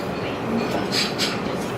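A Rocky Mountaineer passenger train runs through Black Canyon near a trestle bridge, giving a steady, close rumbling roar of rail travel with a faint brighter hiss midway and no talking.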